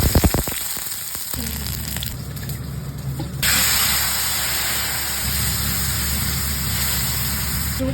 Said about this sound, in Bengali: এই তেলে এই ফোড়নটা দিয়ে দেবো।